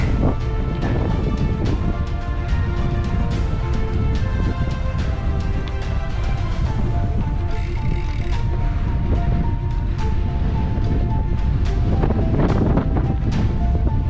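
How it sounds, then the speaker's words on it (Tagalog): Strong gusting wind on a bike ride in Barangay Malico, San Nicolas, Pangasinan, batters the microphone with heavy roaring buffets throughout, loud and continuous, with no voices. "Delikadong lakas ng hangin."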